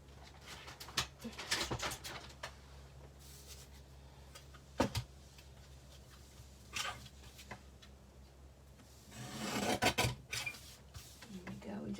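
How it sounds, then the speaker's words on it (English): A paper trimmer slices through cardstock in several separate rasping strokes, with some short and one longer scraping pass near the end, over quiet background hum and light handling noises. "Let me bring in my trimmer"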